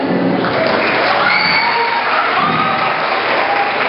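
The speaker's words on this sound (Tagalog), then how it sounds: "Sa palakpak ninyo, siya ay ihatid." Audience applause fills a school hall during a Balagtasan debate for Buwan ng Wika, a steady dense clapping from a crowd, loud and continuous throughout with faint voices mixed in.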